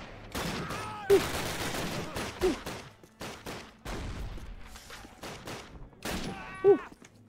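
Bursts of automatic gunfire and rapid shots in a Call of Duty war game, loud and dense with brief gaps, voices and game effects mixed in.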